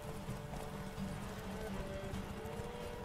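A horse gallops during a race in the video game The Witcher 3, its hooves beating a quick, continuous clip-clop rhythm over a dense, rumbling background of movement, steady and fairly close, with no voices.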